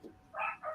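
Puppies give a brief whimpering yelp, a short faint cry that rises into two quick, nasal whines close by. No voices are heard.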